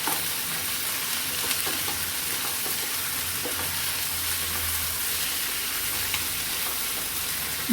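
Sliced green chillies, ginger and garlic fry in hot oil in a pan, giving a loud, dense, continuous sizzle with stirring scrapes mixed in close by.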